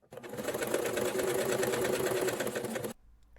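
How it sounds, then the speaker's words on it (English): A sewing machine stitches steadily along a fabric edge to form an elastic casing for a shirred top sleeve, a continuous close whirring run of about three seconds that stops abruptly. "we're going to sew on this edge right here"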